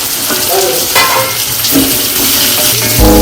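Drumsticks tipped into a pan of onions frying for a drumstick kurma, loud steady sizzling with stirring clatter and a sharp burst of spattering near the end.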